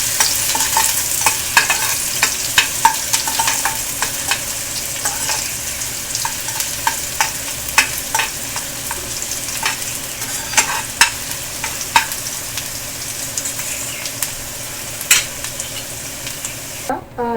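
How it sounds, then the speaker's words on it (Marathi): Onion frying in oil in a pan while being stirred, a steady sizzle punctuated by frequent sharp spatula scrapes and clicks against the pan, close and fairly loud, no voices. "आता कांदा चांगला लाल भाजून घ्यायचा आहे।"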